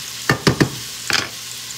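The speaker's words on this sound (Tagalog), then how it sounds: "pag kumukulo na yan, ilalagay ko na yung ating sayote." A pot of chayote boils on the stove while a spoon scrapes and stirs, three quick clinks and scrapes and then a short cluster, over a soft bubbling hiss.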